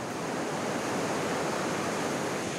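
Breeze and surf on the beach at Mount Maunganui, New Zealand, during an ocean swim event: a constant loud wash of waves and wind rumble with no breaks, filling the whole stretch.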